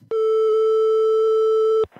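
Telephone line tone on a call to a hotel, a single loud, steady electronic tone held for nearly two seconds, then cut off abruptly.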